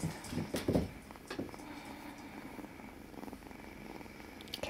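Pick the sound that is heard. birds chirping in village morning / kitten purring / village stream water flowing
kitten purring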